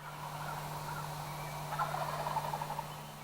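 A wild turkey gobbles faintly in the distance, a quick rattling burst in the second half over a quiet outdoor background with a low steady hum.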